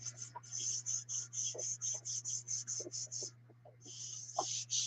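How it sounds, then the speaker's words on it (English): Paper is rubbed down onto a gelli printing plate in a quick series of short, rhythmic rasping strokes, close and fairly soft, heard alone over a steady low hum. "Now, let's put some paper down. I'm going to show you what this does. Make sure you kind of rub it down."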